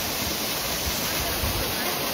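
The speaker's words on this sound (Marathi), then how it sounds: "मारे धबधबा बघ पाणी बघ पाणी." A waterfall near Karla Caves in Lonavala during the rains, heard as a steady, loud broadband rush of falling water that fills the whole clip without pause.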